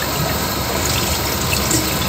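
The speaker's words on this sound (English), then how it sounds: "You know about me washing dishes, huh?" Dishes washed under a running kitchen tap, a steady, loud and close rush of water with no breaks and no talking.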